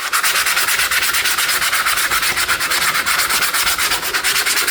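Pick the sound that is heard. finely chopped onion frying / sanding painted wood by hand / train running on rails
sanding painted wood by hand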